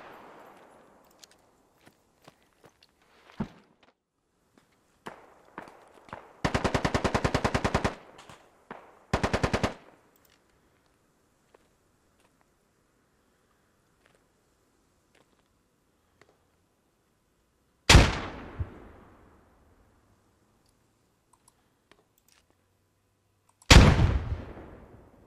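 Squad military shooter gunfire: scattered distant single shots, two sustained automatic bursts, then a couple of loud, close booming reports with long decaying echoes across an otherwise quiet battlefield.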